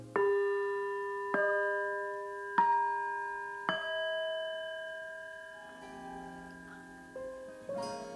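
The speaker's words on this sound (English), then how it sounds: "I'll ring the Tibetan bells again." Tibetan bells struck four times in close succession, each ring a clear, sustained metallic tone that overlaps the last and slowly fades, followed by softer strikes and a lingering shimmer.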